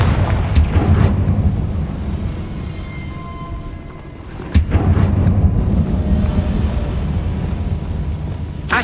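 A Confringo fire spell explodes in Hogwarts Legacy, a loud, booming blast over steady low rumbling combat noise, followed by a sharp second impact midway and continued thunderous rumble.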